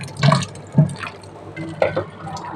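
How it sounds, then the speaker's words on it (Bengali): Water splashing and dripping as a scrubbed potato is rinsed by hand, a few distinct close splashes and trickles with short gaps between. "একটুখানি আলুটাকে ধুয়ে নেব, ঘষে নিয়েছি, একটুখানি ভালো করে ধুয়ে নেব"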